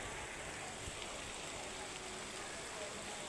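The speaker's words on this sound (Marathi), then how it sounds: "लागला पाऊस" Rain falling at night during a sudden storm, a faint, steady broadband hiss of drops that stays even throughout, with no clear talk over it.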